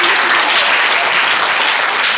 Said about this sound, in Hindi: ताली दिखाओ जरा, जोरदार तरीका से ताली बजाओ